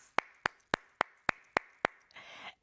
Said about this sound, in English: Now let's give all our honorees another round of applause.